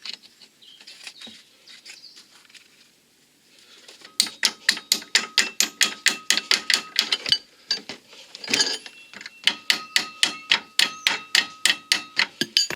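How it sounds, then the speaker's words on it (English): A ratchet wrench clicks steadily in quick repeated strokes while the nut on a car's lower ball joint bolt is refitted during a clutch replacement, with a short pause and some faint metallic handling in between, close and loud. "Refit the nut of the lower ball joint bolt."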